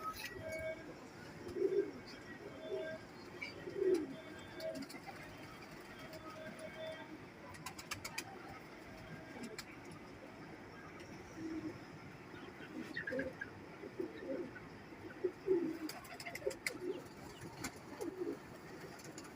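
Sialkoti pigeons cooing softly, with a pair of red-beaded birds among them; low, repeated coos come in short, irregular bursts over a faint, noisy background.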